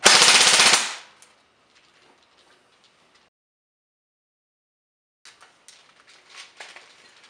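A JG Mag K airsoft gun fires full auto on a 9.6 volt battery in one loud, rapid, close burst lasting about a second. Near silence follows, then faint scattered clicks and handling noises.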